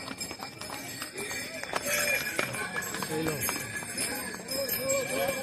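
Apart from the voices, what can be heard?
horse hooves walking slowly on mountain path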